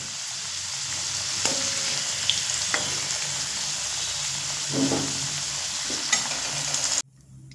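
Potatoes frying in a pan over a medium flame, a steady close sizzle with occasional stirring scrapes and clinks, with no talking, until the sound cuts off abruptly near the end.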